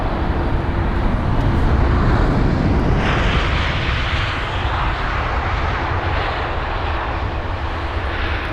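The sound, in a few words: jet airliner passing at London Heathrow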